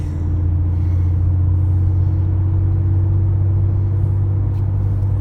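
A Porsche 911 Type 996 Carrera 4S under way gives a steady, loud low engine drone with a constant hum and road rumble, unchanging throughout with no talk.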